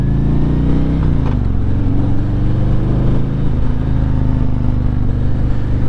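An illegal motorcycle's engine drones loud and close during a ride, a steady low rumble with a slight dip and recovery in pitch as the throttle shifts, no talk over it.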